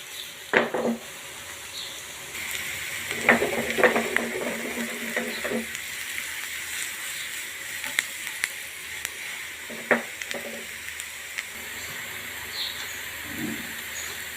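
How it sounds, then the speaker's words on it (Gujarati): Finely chopped onion frying in hot butter in a pan, with a steady sizzle and intermittent spoon stirring and scraping clatter, close and moderately loud. "બટર આપણું ગરમ થઈ ગયું છે. ડુંગળી નાખીશું."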